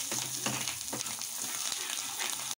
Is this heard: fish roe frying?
yes